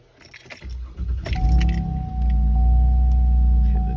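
A 2013 Chevrolet Traverse engine cranks and starts, preceded by jangling keys, then settles into a steady, close, loud idle rumble with a faint electronic tone.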